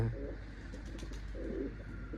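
Tumbler pigeons in a small loft give soft, low cooing calls, two fairly close coo phrases over quiet background.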